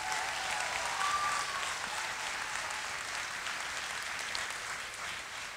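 A large crowd at the FIBD 2018 comics festival claps for the artists and interpreter of a live draw battle, steady continuous applause filling the hall, easing off slightly toward the end.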